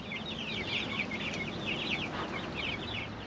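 Chickens cluck steadily on a homestead, a rooster among them, with continuous hens' chatter and a hazy background of farmyard noise close by.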